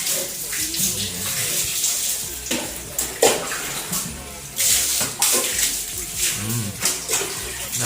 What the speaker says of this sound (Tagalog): tignan nyo si Mrs. Ang sipag niyang maglinis ng CR